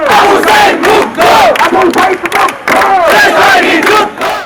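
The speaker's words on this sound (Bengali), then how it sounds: "এ সময় শেখ হাসিনার বিচারের দাবিতে স্লোগানে উত্তাল হয়ে ওঠে ঢাকা বিশ্ববিদ্যালয় এলাকা।" A large crowd of students chants protest slogans demanding Sheikh Hasina's trial in the Dhaka University area, loud rhythmic shouted calls and responses filling the air, close and continuous.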